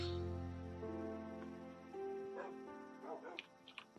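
Dogs barking in the video game Minecraft, a few short yips and barks over a steady droning game music bed, moderately loud and close.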